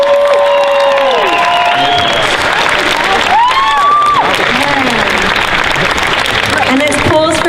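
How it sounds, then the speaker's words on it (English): A large crowd at a Dragon Con costume contest in Atlanta claps loudly and steadily while whoops and cheers ring out throughout, with a voice calling over the din. "let's give them a huge round of applause."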